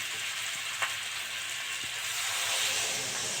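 A pan of spiced cauliflower and potato fries with a steady, close sizzle, and the hiss grows brighter and fuller partway through as water hits the hot pan.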